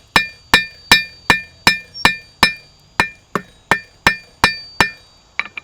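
A blacksmith hammers a hot nail into a taper on an anvil: a steady run of about fourteen ringing metallic blows, evenly spaced and close, with lighter taps at the end.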